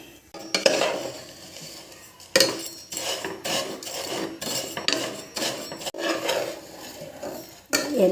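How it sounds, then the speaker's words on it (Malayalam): Semiya vermicelli roasting in a spoonful of ghee in a pan, with a spoon scraping and stirring through the dry strands in repeated rasping strokes and occasional clinks against the metal, close and alone without talk. "ചെറിയ സ്പൂണ് നെയ്യ് ഒഴിച്ചിട്ട് നമുക്കിത് വറുത്തെടുക്കാം"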